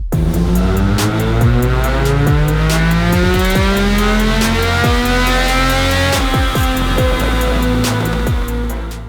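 A 2025 Yamaha YZF-R9 motorcycle fitted with a full aftermarket exhaust revving hard on a dyno, loud and close, with repeated rising and falling engine sweeps and sharp rev cuts running through the whole stretch.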